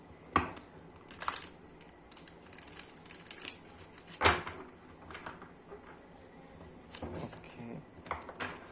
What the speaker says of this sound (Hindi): मुझे इस तरीके से शफल करने में थोड़ा दिक्कत हो रही है, बट फिर भी I am trying to do this.